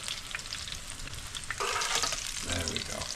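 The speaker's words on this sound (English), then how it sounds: "Alright, now we're going to go ahead and cook the other half. Get these fried up." A second batch of eggplant frying in a pan for Sicilian pasta alla Norma gives a loud, dense sizzle that swells partway through as pieces hit the hot oil.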